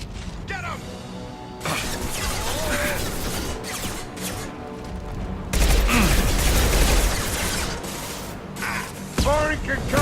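Combat in Mass Effect 2, with bursts of weapon fire, impacts and booms arriving in rapid clusters over a dense battle bed, mixed with shouted voices.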